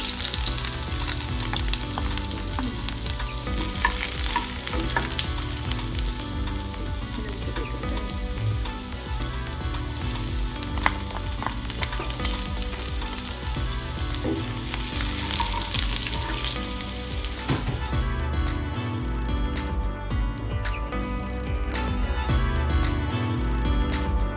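Ginger and garlic frying in hot oil with mustard seeds, a dense continuous sizzle with crackling pops running steadily throughout, close and loud, easing slightly near the end, no talking.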